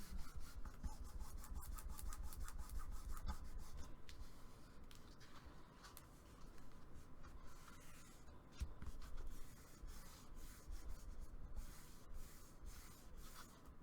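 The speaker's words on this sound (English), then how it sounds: "I just want to burnish that real well to keep it together" Glued paper folio being burnished by hand, a steady close scraping and rubbing with repeated short strokes, quiet and continuous without speech.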